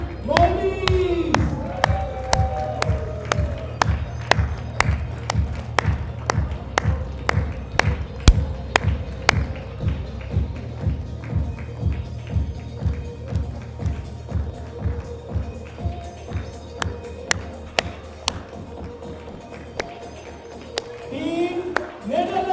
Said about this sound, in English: Keep the claps going, guys.